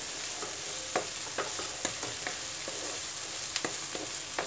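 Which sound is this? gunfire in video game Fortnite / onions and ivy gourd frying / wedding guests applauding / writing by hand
onions and ivy gourd frying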